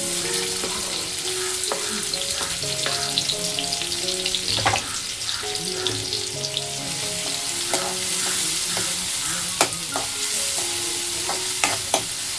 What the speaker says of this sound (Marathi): एकदम बारीक चॉप अनियन टाकते.